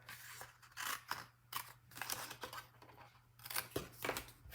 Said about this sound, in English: Gonna cut up to the corner, cut in here